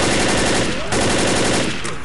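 Machine gun fire in the video game Left 4 Dead: loud, rapid, sustained automatic bursts with a brief dip in between, close and dense, with faint voices underneath.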